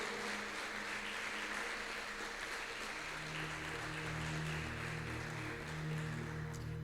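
A church congregation applauds at an evening worship service, a steady, faint wash of clapping that continues throughout, joined partway by a sustained low instrumental tone.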